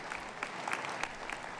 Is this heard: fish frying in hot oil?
no